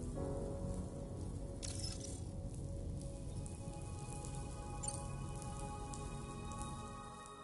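Steady rain patters and drips on surfaces in the video game Death Stranding 2, a soft, even wash of droplets that continues alone without voices and fades slightly at the end.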